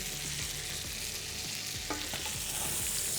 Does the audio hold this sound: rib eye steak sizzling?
yes